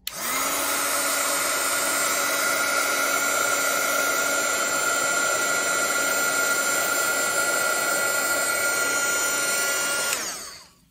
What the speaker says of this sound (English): I've got my heat tool right out here off to the side, so pardon the noise.